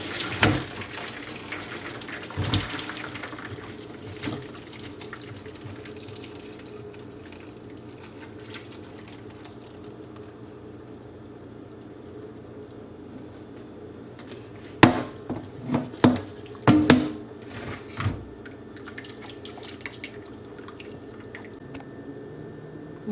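Boiled tomatoes drained of their hot water in a kitchen, with scattered drips, splashes and clattering knocks, mostly sparse and then a busier cluster of splashy impacts midway.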